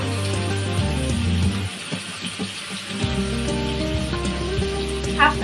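Garlic and ginger paste hits hot oil in a pan while cooking a vegetable-stem curry, giving a steady close sizzle and crackle throughout, with a low background hum that drops out briefly midway.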